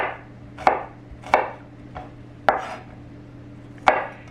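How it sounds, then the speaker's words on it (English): A knife mincing garlic on a cutting board gives four sharp chopping knocks at uneven intervals, each with a short ringing tail, over a steady low background hum. "So now I'm going to mince up this garlic so that I have about 2 teaspoons of minced garlic."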